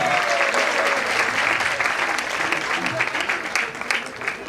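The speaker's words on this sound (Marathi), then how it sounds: "एकदा जोरात टाळ्या होऊन जाऊ द्या या मुलांचं" An audience at a school celebration bursts into loud, sustained applause that fills the hall and tapers slightly toward the end.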